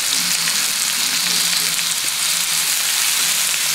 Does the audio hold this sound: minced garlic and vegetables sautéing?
yes